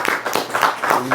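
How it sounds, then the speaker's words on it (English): A crowd clapping in quick, uneven bursts, close and loud, with voices mixed in among the claps. "Clap it up."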